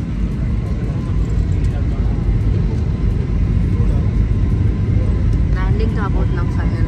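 Airplane cabin noise during a landing approach: a loud, steady, broadband roar and rumble that holds constant throughout, with a few faint higher chirps near the end.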